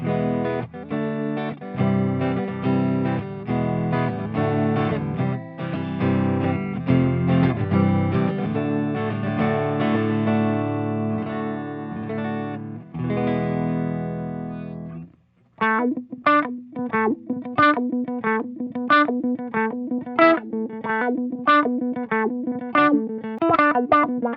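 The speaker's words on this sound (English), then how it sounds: "you can get a little funky with that single coil sound" An Aria Pro II XR electric guitar with a bright single-coil tone run through effects, strummed chords that give way to choppy, funky muted rhythm playing.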